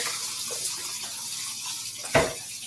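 Tap water runs steadily into a bowl in a sink, a hissy even stream at moderate level with a brief louder splash near the end and no speech.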